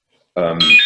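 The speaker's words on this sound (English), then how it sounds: "that's my alarm that I set for this meeting" An alarm set for a meeting starts ringing suddenly and loudly, then jumps to a brighter, shriller electronic tone partway through. It sounds close. A brief spoken exclamation overlaps the ringing.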